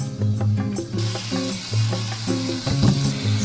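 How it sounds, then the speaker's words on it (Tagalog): Mushrooms frying in oil in a pan, a steady close sizzle with scattered pops and light stirring, no talk. "Lutuin ko na ang mushroom. Lagyan natin ng oil."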